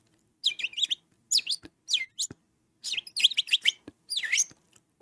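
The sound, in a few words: birds chirping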